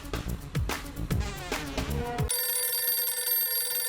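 A phone ringtone begins partway through, a steady high electronic ring that takes over from a busier stretch of music and keeps going to the end.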